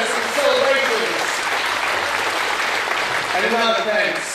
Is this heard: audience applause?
yes